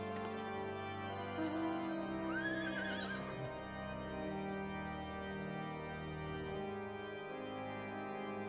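A horse whinnies in the Final Fantasy XIV video game, one brief rising call set against sustained game music.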